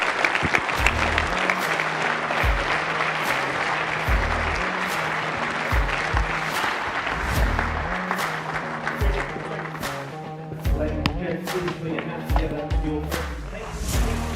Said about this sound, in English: how about another round of applause for your champions, J. Banks and M.Stepney